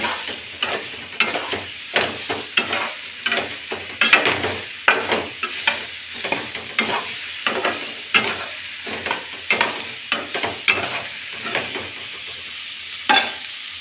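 Bitter gourd pieces fry with turmeric in a pan. Steady close sizzle sits under repeated rhythmic stirring scrapes and clinks that land roughly every half second, with no talking.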